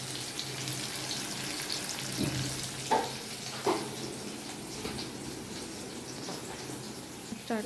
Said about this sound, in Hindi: ये अब हम प्याज को भून रहे हैं, और साथ में डाल दिया मैंने इसमें हरा धनिया, जिससे कि ये भी भून जाए।